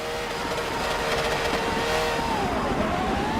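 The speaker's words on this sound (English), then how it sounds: "I took the Ferrari F50. How could I not? I mean, listen to this bad boy." A Ferrari F50 V12 racing car in the video game Forza 7 revs and accelerates, its engine note rising and falling steadily and loudly throughout, alone without talk.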